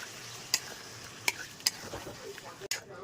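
Spoon stirring palak chicken coated in yogurt paste in a frying pan, with a soft sizzle underneath and a few sharp scrapes and taps against the pan at irregular intervals, close and fairly quiet.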